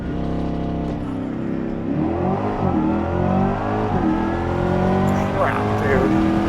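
A Chevrolet Corvette C8 E-Ray launches on a drag strip run, its engine revving through rising gear pulls with sharp shift breaks, loud and close, while a person talks over it.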